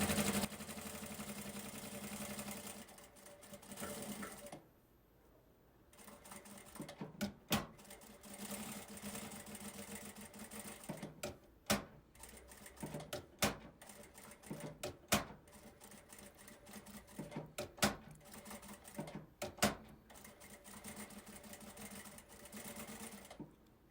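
Domestic sewing machine stitching a children's 3D backpack, running in steady mid-volume bursts with short pauses between, punctuated by sharp clicks and handling knocks as the fabric is repositioned, no talking.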